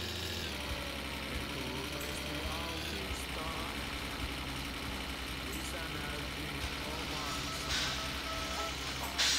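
Continuous low idle hum of a cold car engine warming up in the game My Summer Car, steady throughout, with faint voices talking underneath.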